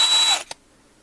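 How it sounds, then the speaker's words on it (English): A small drill bites into the metal dash of a 1/64 diecast NASCAR truck in a short, loud, whining burst that cuts off abruptly, followed by a faint click and then quiet. "So now we're going to drill out the dash."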